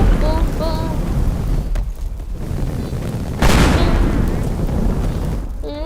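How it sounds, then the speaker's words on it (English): Loud explosions in the video game Teardown boom and rumble through a thick, continuous roar, with a sharp new blast partway through and crackling debris after it. "back to explosions"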